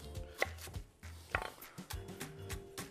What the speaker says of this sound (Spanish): Picamos el puerro.